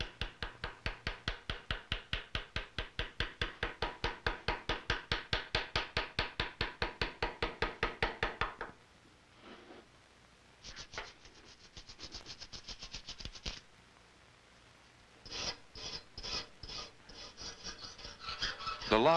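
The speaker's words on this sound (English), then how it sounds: "The majority of the engraving is done with the V-shaped engraver" Metal engraving with a V-shaped engraver on a flintlock rifle: a long run of rapid, regular tapping strikes, loud and close, then quieter scraping and shorter bursts of fast cuts after a pause.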